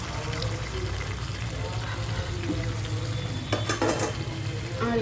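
Chicken being braised in a pan with a little water poured in, a steady close sizzle with brief bursts of spattering and stirring near the end.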